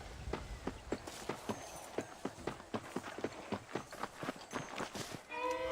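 A horse walks in a steady clip-clop rhythm in Red Dead Redemption, hooves striking at an even pace, fairly near but soft, over faint background ambience.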